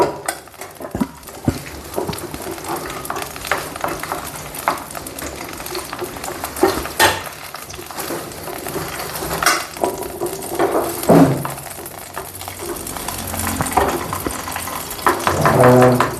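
Ingredients for a home remedy being stirred and fried in desi ghee: a continuous close sizzle with frequent scraping and knocking of a spoon against the pan, steady throughout and loudest near the end.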